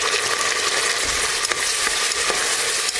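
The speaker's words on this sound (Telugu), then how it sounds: "ఆనియన్స్ మనకి కొద్దిగా వేగాక ఈ సన్నగా కట్ చేసి పెట్టుకున్న టమాటా ముక్కలు కూడా వేసేసుకోండి." Onions and finely cut tomato pieces frying in a pan for chicken biryani, a loud, dense, close sizzle with occasional stirring scrapes and no voices.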